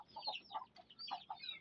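A hen clucking softly nearby, a series of short, irregular clucks and murmurs at low volume.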